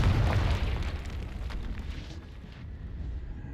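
Blasting explosion from the Confringo spell in Hogwarts Legacy, a heavy rumbling boom at the start that rolls away into a long, fading, debris-like roar, with no voices over it.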